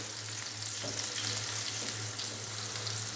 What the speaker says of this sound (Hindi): मिर्चों को हल्का सा फ्राई करेंगे ताकि इनका प्यारा सा जो फ्लेवर है